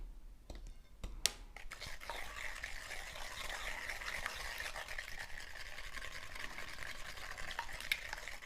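Yogurt cake batter being stirred in a bowl, a continuous wet, scraping swirl that is steady and close, following a few sharp clinks at the start.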